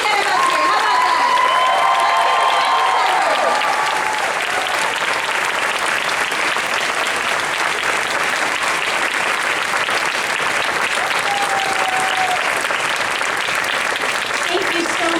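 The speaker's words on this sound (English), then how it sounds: "Keep that applause going." Loud, sustained applause from a large audience at Disney's Hollywood Studios 35th anniversary ceremony, continuous and dense throughout, with a few faint whistles early on.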